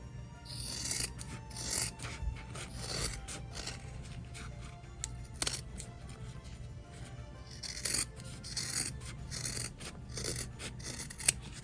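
Scissors trim fabric for a handmade zipper pouch, a series of close, soft rasping snips and rubbing strokes over a low background hum.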